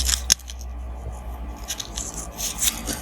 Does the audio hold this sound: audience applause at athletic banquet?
no